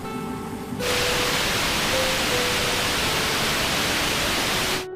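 A pressure cooker boiling raw mangoes lets out one loud, sustained steam whistle, a broad hissing blast with a faint tonal edge that starts abruptly and cuts off after about four seconds.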